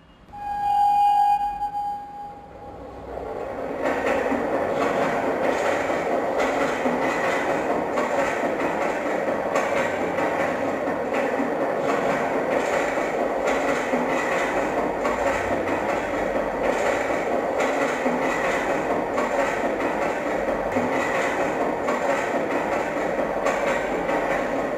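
A railway train rumbles steadily with a continuous loud roar and faint rhythmic clatter, preceded by a brief tone at the start.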